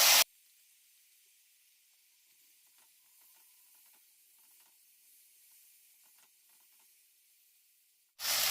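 A paste of ground ginger, garlic and green chilli hits hot oil in a pan, giving a steady, soft sizzle that runs unbroken for several seconds between two brief louder bursts at the start and end.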